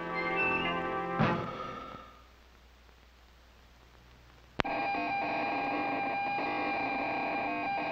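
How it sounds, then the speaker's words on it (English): A spacecraft component under pre-launch testing gives off steady electronic tonal hums with many layered harmonics, broken by a brief hiss, a near-silent lull, then a sharp click before the dense buzzing drone resumes at full strength. "The sounds you hear are those made by a spacecraft component being tested before launch."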